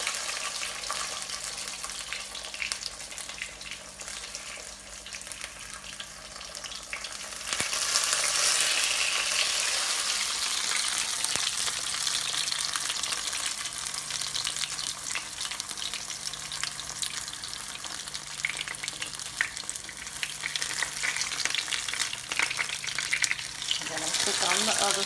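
Green tomato slices fry in a pan with a continuous crackling sizzle, loud and steady for the full length, swelling slightly partway through, with occasional light clatter and no voices.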